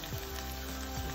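Onion softening in a pan over medium-high heat gives a faint, steady sizzle and hiss that runs unbroken through a short stretch, with no talking.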